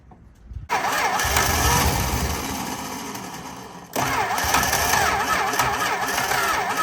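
A 1964 Plymouth Valiant convertible engine, reluctant to keep running, catches abruptly and runs roughly, sags, then catches again with a second surge and keeps running loudly up close.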